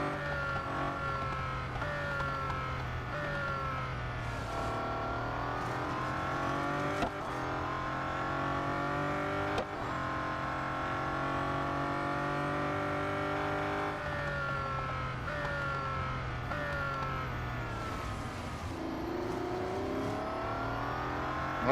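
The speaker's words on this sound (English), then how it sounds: "My car is close to blowing the engine again, so I do need to be careful." Race car engine in the Real Racing 3 video game, a steady loud whine with rising and falling pitch sweeps as gears shift, continuous throughout with no talk.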